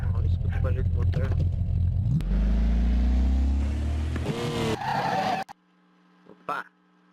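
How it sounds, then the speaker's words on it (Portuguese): A Volkswagen Gol GTI engine roars and revs up close with a brief tire squeal, then cuts out, leaving a low idle hum and a few faint knocks. "Olha, escuta o barulho do motor."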